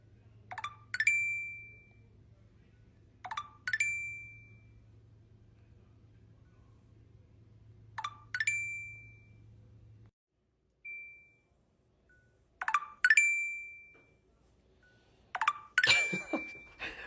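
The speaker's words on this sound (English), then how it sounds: "It's the Tinder sound." Tinder app notification chime heard alone, a crisp bright two-note ping repeated several times at irregular intervals over a faint low hum, with the last few chimes clustering closer together.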